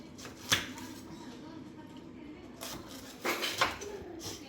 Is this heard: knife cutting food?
yes